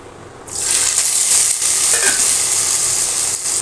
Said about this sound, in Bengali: ইঁচড়টাকে দিয়ে এবার একটু ভেজে নেব